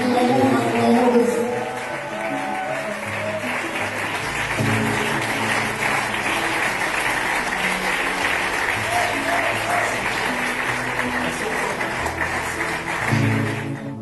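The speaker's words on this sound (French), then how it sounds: "acclamons le Seigneur, acclamons le" A church congregation applauds and cheers the Lord in sustained, loud clapping that fills the room, with voices and music mixed underneath.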